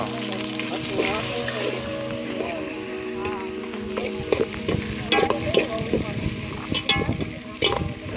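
Spices such as mustard seeds, ginger, garlic, turmeric and mint crackle in hot oil for a vaghar for spiced rice, with busy clatter and stirring, and people talk over the frying.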